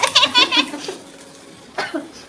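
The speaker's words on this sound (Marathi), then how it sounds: "जेन्युइन खोकला आलेला आहे मला" A short burst of coughing up close, then a quiet pause and one more brief cough.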